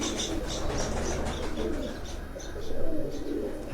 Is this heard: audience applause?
no